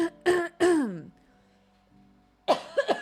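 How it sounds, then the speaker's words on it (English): Throat clearing and coughing from one person indoors: several close, loud bursts in quick succession, a short quiet gap, then more rough coughs. "I did not start coughing this much until I came up here"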